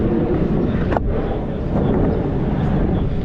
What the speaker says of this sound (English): you can see it's a windy day, as it always is. You can see the wind whipping here